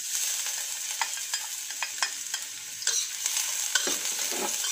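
Garlic sautéing in about a spoonful of hot cooking oil for ginisang pechay, a steady close sizzle punctuated by a series of quick stirring scrapes.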